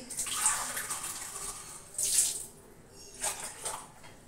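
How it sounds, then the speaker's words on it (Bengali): Water is poured into a pot in a home kitchen to make tea, heard as a few short splashing bursts with quiet gaps between them, fairly close. "4 কাপ জল দিয়ে দিচ্ছি"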